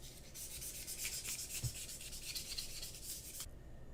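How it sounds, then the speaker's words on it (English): A polisher is rubbed back and forth over the plastic turret of a 1/16 HobbyBoss Tiger I model kit to remove scratch marks, a soft, close, rhythmic scrubbing that lasts about three seconds and then stops. "come in with a polisher and get rid of any little scratch marks"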